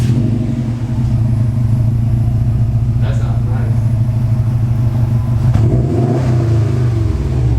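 A 2019 Subaru WRX STI engine with muffler deletes and no exhaust tips idles and revs with a deep, loud rumble throughout, while someone speaks briefly over it.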